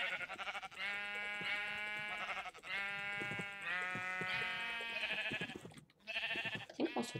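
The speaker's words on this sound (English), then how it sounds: "There's a sheep on fire for some reason." Sheep bleat in the Minecraft Feed The Beast modpack, a series of loud, close, wavering cries coming in quick succession with brief gaps between them.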